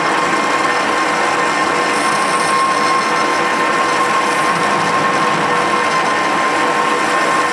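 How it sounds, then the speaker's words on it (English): A steady, continuous machining whir with a faint high tone as an antenna bushing for a 1970s Starduster antenna is turned, running unbroken and fairly loud with no talking. "here's the machining of one of the antenna bushings for the Starduster"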